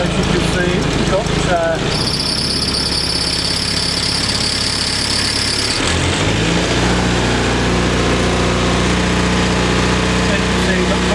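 A Land Rover engine cranks and catches, then settles into a steady idle with a loud, continuous rumble and a high whine fading after a few seconds, close to the microphone.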